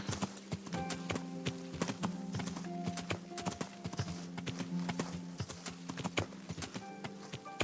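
Horse hooves clip-clop steadily in Kingdom Come: Deliverance, a medieval video game. The quick, even hoofbeats are close and continuous, with no talking over them.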